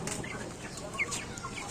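Around thirty broiler chickens on a rooftop give soft, scattered clucks and short calls over a low steady background hiss. The sound is quiet and somewhat distant.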